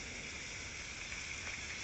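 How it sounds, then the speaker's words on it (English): Steady, soft hiss of rain falling continuously, a faint even wash with no voices or other sounds. "It was raining hard"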